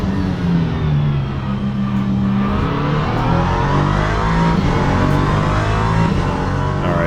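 Ginetta LMP3 prototype race car in Le Mans Ultimate at Paul Ricard, its engine droning loud and steady throughout with shifting pitch as it revs through the final corner, no talk.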